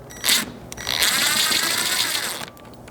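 A ratchet with a 7mm socket turning a small hex bolt on a Chevy Colorado, a brief click burst followed by a longer steady run of rapid ratcheting clicks, close and loud.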